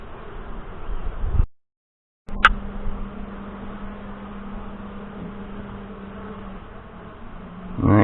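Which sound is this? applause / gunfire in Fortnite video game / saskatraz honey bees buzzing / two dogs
saskatraz honey bees buzzing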